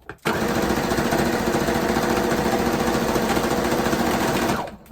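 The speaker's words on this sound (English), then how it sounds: "Doesn't seem to be sewing as fast as it normally does." A home sewing machine stitching scrap fabric for a Christmas tree ornament: a loud, steady mechanical whir close by that starts abruptly, holds for about four and a half seconds, then winds down. No voices are heard.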